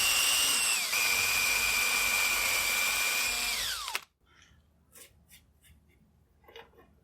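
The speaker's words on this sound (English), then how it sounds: "I'll mark the two holes and drill them out." A power drill bores two holes in a wooden military rifle stock blank, giving a loud, steady whine that dips in pitch before cutting off abruptly, followed by faint handling clatter.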